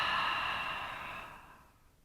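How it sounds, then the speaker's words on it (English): A long, breathy exhale during a yoga session, a soft shh-like release of air that gently fades out over about two seconds, close to the microphone. "So let's take 3 more giant breaths in the torso."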